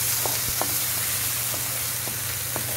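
Seasonings being stirred into food in a sizzling pan, a steady close frying hiss with a few soft utensil scrapes against the pan over about three seconds, no talking.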